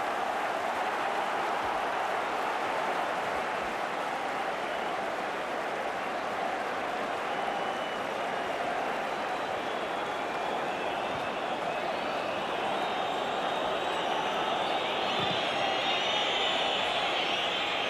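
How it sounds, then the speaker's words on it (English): A large football crowd at an FA Cup semi-final between Manchester United and Oldham Athletic whistles continuously for the half-time whistle of extra time, a steady shrill wall of whistling and noise throughout. "Crowd whistling for the half-time whistle of extra time"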